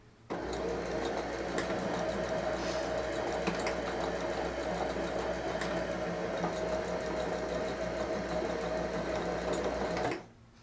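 A sewing machine stitches a seam on comfy pants made from a Simplicity pattern, a steady, close, continuous whirring hum that runs without a break for about ten seconds, then stops abruptly.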